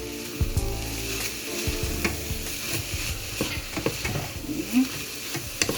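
Shredded chicken filling for coxinha, seasoned with black pepper, sizzles loudly in a pan while being mixed, with continuous frying hiss and repeated spoon scrapes and knocks against the pan.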